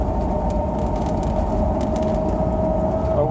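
Continuous drivetrain whine and low rumble from an automatic transmission or differential in a car driving in first gear under load, steady and fairly loud throughout with no talk.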